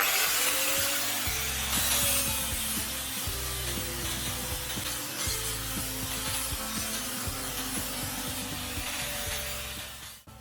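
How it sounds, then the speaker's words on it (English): Grinder smoothing old pallet wood slats, a loud continuous abrasive roar with a steady motor whine and rough scraping texture throughout, close up. "move to smoothing the surface with a grinder"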